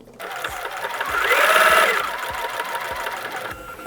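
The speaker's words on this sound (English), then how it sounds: "Now we just continue to sew and we just line up the needle with the very edge of the block." A sewing machine stitching a quilt runs in a steady close whirr with rapid rhythmic needle thumps, speeding up and then easing off as it sews.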